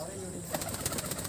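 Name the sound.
breeder pigeons cooing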